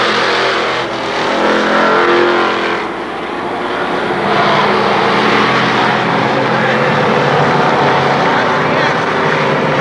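Dirt track race cars roar around Kil Kare Speedway at the finish of a race, a loud continuous engine drone with swells as cars pass, under a public address announcer calling the finishers.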